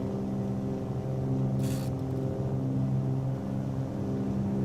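Twin Cessna 310 engines in a flight simulator, a steady droning hum with layered harmonic tones on the takeoff roll, continuous and fairly loud, with a brief hiss partway through and no talking.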